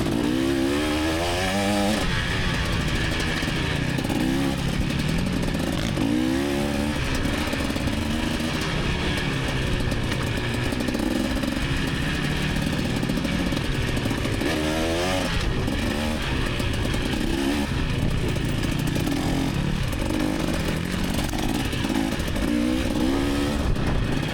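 A dirt bike motorcycle rides a tight trail through cedars, its engine droning continuously and loudly up close, the revs rising and falling as it accelerates and slows between trees.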